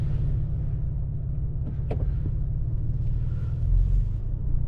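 A 2023 Lincoln Navigator Reserve SUV drives along, its engine and road noise forming a steady, deep rumble heard from inside the cabin, with a brief soft click partway through.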